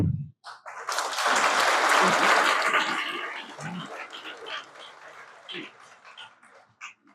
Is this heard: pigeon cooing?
no